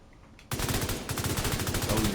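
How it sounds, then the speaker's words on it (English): Controlled bursts from a rifle in The Division, a sudden start into rapid, evenly spaced shots that run continuously and loudly to the end. "Fire in bursts to improve the accuracy."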